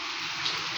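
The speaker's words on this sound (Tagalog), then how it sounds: "Kasi tuloy-tuloy yung pag-ulan." Continuous rain pours down in a short, steady wash of hiss, fairly close and even throughout, with no talking.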